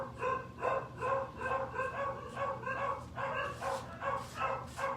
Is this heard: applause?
no